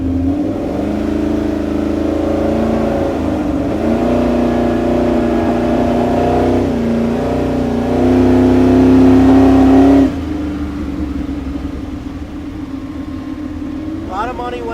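A 1955 Chevrolet pickup pro street truck with a 454 V8 making 600 hp runs loud and close, the engine holding at a rough idle then revving up and settling back down.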